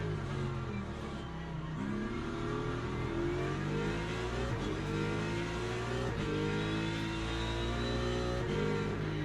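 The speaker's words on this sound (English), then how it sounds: "Damn BMW acceleration." A BMW race car in a Le Mans endurance racing game, its engine revving hard and climbing through the gears in a continuous, layered drone with other cars nearby, steady and fairly loud throughout.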